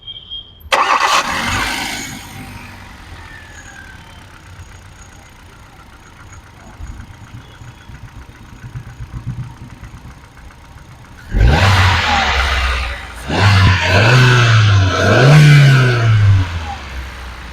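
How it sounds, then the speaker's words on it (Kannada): A 2010 Hyundai i10 Magna petrol car with 43,000 km on it cranks and catches early, then idles quietly and smoothly for several seconds before a loud burst of repeated revving near the end. "ಗಾಡಿ ಸ್ಟಾರ್ಟ್ ಮಾಡಿನೂ ಕೂಡ ತೋರ್ಸೋಣ"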